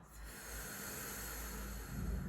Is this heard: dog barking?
no